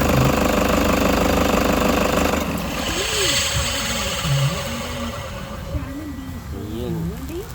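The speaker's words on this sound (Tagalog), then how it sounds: "May naririnig tayong maingay pagka pinapatay na lalo yung makina." A Toyota Hiace engine runs loudly at idle, then shuts off about two and a half seconds in, leaving fainter mechanical whirring and rattling from the alternator pulley as someone speaks over the winding-down noise.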